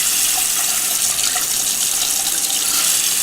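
Water running steadily from a Moen Adler bath faucet, a loud, even hiss of flow held for several seconds with no voices over it.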